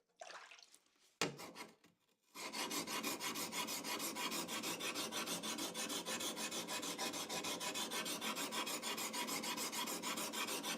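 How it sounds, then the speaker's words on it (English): A Japanese sword blade is rubbed back and forth on a whetstone, with a few soft handling sounds first, then a steady, close, rhythmic rasping scrape that continues without talk. "反りと砥石でこうしてしのぎの幅と角度を合わせていきます"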